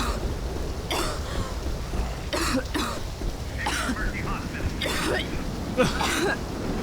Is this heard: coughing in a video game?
yes